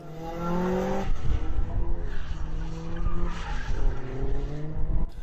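An early Vauxhall Nova front-wheel-drive autotest car skids around a rallytest course at Dunmail Park, tyres squealing loudly over a revving engine, with the squeal rising and falling through turns.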